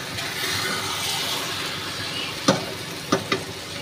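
Potatoes and eggplant fry in a pan with a steady, close sizzle, broken by a few sharp scrapes and clinks of a spoon stirring near the end.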